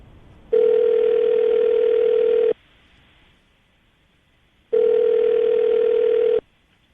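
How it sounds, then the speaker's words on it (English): A steady telephone dial tone sounds loudly for about two seconds, cuts off, then returns after a silent gap for another two seconds before stopping again. "I'm gonna dial the phone number right now"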